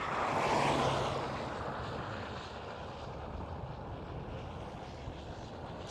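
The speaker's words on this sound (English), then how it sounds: "747 departure, runway 18 left" A Boeing 747 departs from a runway at Amsterdam Schiphol, heard as a broad jet roar that is strongest at the start and fades into a steady distant rumble.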